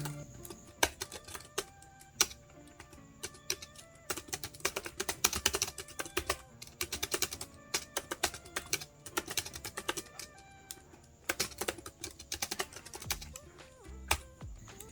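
Rapid typing on a cheap Bluetooth keyboard up close, dense bursts of crisp clicky keystrokes with brief pauses between runs, no voices.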